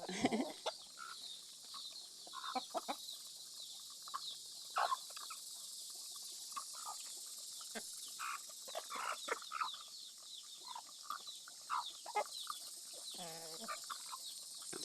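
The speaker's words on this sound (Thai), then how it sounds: "ไก่จ้าประมาณนี้น้องไก่" Backyard chickens, small and large, cluck and murmur in scattered bursts for about fifteen seconds over a steady hiss, fairly close and moderately quiet, with no talk.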